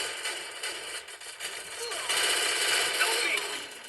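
Gunfire in the Free Fire mobile battle-royale game, rapid bursts of automatic shots crackling in quick rhythm, moderately loud, alongside a person talking over the game.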